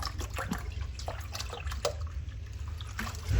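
Water pours from a 1.5 litre bottle into a pot of kadhi batter, a continuous close trickle and splash with small drips, no voices.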